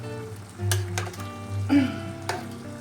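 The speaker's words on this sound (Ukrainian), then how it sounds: "Тому що я тут ще буду смажити наше борошно, підсмажувати" Flour toasting in a pan at home while cooking beans, a soft continuous sizzle with a few sharp clinks of a utensil against the pan.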